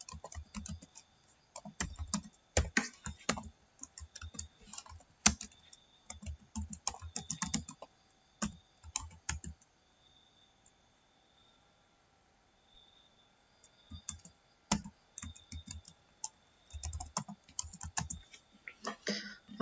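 Someone types a Google account login on a computer keyboard, a close, quiet run of light key clicks in irregular bursts with short pauses between them and a longer silent gap midway.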